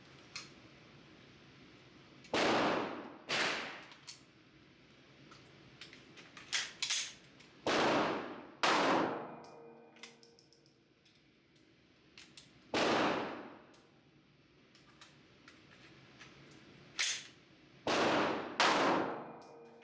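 About ten sharp, loud pistol shots from a Smith & Wesson M&P ring out at irregular intervals, some alone and some in quick pairs, with a faint metallic clink between them.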